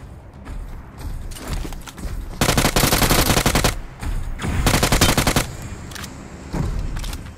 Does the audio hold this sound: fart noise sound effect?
no